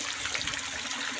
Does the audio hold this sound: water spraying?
yes